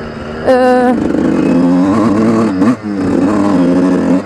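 A 2007 Suzuki RM 125cc two-stroke motocross bike engine revs loudly close by, climbing in pitch, briefly dropping off, then winding up again.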